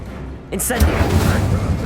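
An Incendio fire spell in Hogwarts Legacy bursts in with a sharp crack, then a roaring, rumbling whoosh of flame that sustains loudly to the end over busy game noise.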